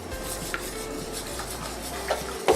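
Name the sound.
milk slowly added and stirred into thickening potato cheese soup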